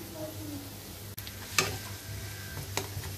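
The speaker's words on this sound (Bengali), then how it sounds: "এইভাবে সবগুলো পেঁয়াজ ভেজে নিব।" Onion fritters (piyaju) sizzle softly in hot oil in a pan, a low steady frying hiss with a few brief clicks and a stir-like scrape, fairly quiet and close.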